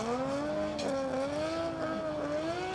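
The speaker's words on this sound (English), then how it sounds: "Joe Doyle warming tyres here and getting himself ready for this battle" A Nissan R33 Skyline drift car at a drift competition warms its tyres, the engine holding a loud, steady, wavering rev with slight rises and dips, tyre squeal faintly mixed in, heard alone.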